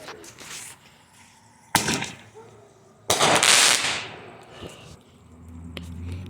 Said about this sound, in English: that was the baby artillery shell